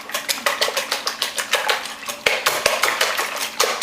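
Eggs beaten briskly in a small bowl for an almond flour crust, a fast rhythmic clatter of utensil against the bowl, close and steady, with a couple of brief pauses.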